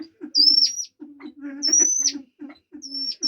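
Repeated pheasant calls: a high, sliding whistle-like note recurring every second or so over lower, softer cooing and chattering sounds nearby.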